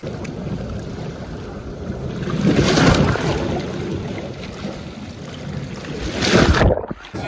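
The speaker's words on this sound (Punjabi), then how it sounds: "ਹਵਾ ਠੰਡੀ ਠੰਡੀ ਚੱਲੀ ਜਾਂਦੀ ਹੈ" Sea waves wash in at Arichal Munai, the land's end of India, with a cool wind gusting across the microphone; surf swells and roars steadily, peaking twice, and no one speaks.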